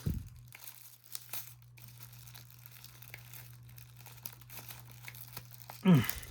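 Thin plastic tape being torn off the packaging of a Neewer Z160 retro camera flash: soft crinkling and scattered crackles over a steady low hum, ending in one louder, close tearing burst.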